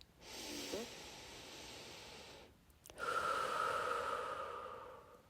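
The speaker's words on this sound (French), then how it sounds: "je t'invite maintenant à ne rien analyser, à simplement respirer" Slow, deep breaths during a guided meditation, a close, soft airy inhale and a longer exhale separated by a brief pause, with no talking.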